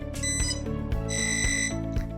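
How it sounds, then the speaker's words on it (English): A toy coding robot's electronic buzzer sounds in repeated tonal bursts with a rhythmic pulsing pattern, fairly loud and close, over a steady background hum. "till you hear this buzzer."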